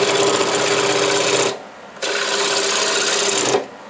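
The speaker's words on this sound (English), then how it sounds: "Start by just making this round. It's in a 1/2 inch bowl gouge," A 1/2 inch bowl gouge cuts a spinning glue-block blank on a wood lathe, making a loud, steady rasping whir in two long passes separated by a short pause.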